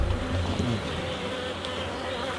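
Honey bees at an open hive give off a steady, dense buzz that stays close and even throughout, with no talking over it.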